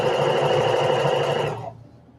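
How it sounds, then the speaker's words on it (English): Sewing machine running a topstitch along a bulky bag, a close steady whirring drone that stops and fades out near the end. "Basically, this is just a top stitch."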